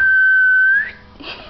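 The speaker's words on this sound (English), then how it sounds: "She has a little bit of a delayed reaction when I whistle." A person whistles a single long, steady tone to a 7.5-month-old baby at breakfast, close and clear, sliding slightly upward at the end before fading into quiet room sounds and a soft rustle.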